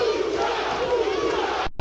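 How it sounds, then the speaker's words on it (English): A boxing crowd at a 1999 bout between Mark Johnson and Raul Juarez roars and chants in a dense, steady wash of voices, loud and continuous, with a brief dropout near the end. "The whole crowd is starting to chant"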